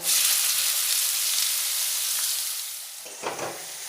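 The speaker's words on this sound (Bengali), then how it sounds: "এবার ওতে দিয়ে দেব মিহি করে কুচনো পেঁয়াজ" Finely chopped onion hits hot oil with cinnamon, cardamom, cloves and split chilli for an aloo chicken curry, a loud steady broadband sizzle that eases off toward the end, with a brief scrape or stir near the close.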